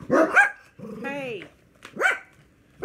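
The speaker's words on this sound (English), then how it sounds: "What are we barking at?" An indoor dog barks and growls in a few short, close bursts with pauses between them, loud and clear with no talking over it.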